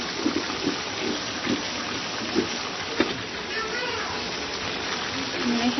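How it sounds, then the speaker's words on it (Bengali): Water is poured into a pot of frying meat, giving a steady broadband hiss and sputter that runs the whole time, fairly loud and close, with soft knocks and no talk heard over it. "এখানে অল্প একটু পানি দিয়ে নিচ্ছি যাতে তলায় লেগে না যায়"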